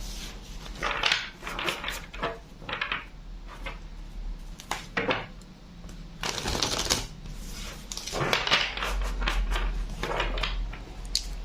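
A deck of tarot cards with pointy edges is shuffled close by, in repeated riffling and flicking bursts spread irregularly over several seconds against a low, steady background hum.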